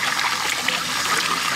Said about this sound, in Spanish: Vamos a empezar a echarle agua.